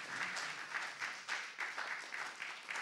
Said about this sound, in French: Il faudrait applaudir Gilles, bien sûr